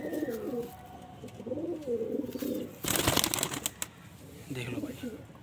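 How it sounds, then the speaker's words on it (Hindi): Andhra-breed Madrasi pigeons coo in soft, repeated rolling calls nearby, with shuffling and a brief rustle of wings midway; someone talks intermittently. "ये आंध्र नस्ल का कबूतर है"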